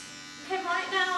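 Electric hair clippers fitted with a 16 millimeter guard cut hair during a home haircut, a steady close buzz running beneath a person speaking.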